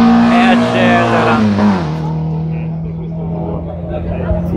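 A race car at the Gubbio hill climb, the 2015 Trofeo Luigi Fagioli, accelerates hard with a loud, close engine note that climbs through the gears, then settles into a steadier drone as it pulls away, with a commentator talking over it.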